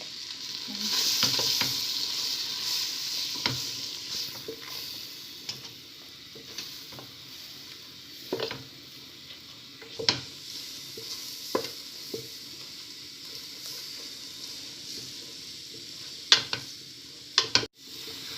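Lasagne sauce stirred in a pan, a spoon scraping steadily through a soft background sizzle, with scattered clicks of the spoon against the pan and a few sharper knocks toward the end.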